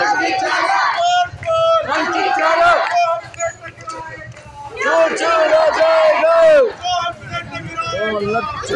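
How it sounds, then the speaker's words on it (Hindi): A dense crowd packs a college election in Pithoragarh, India, with many voices shouting, calling and cheering over one another in a loud, constant roar. "तो गाइस देख सकते हैं यहाँ पे कितनी ज्यादा भीड़ है भाई इलेक्शन में, पूरा माहौल हो रखा है"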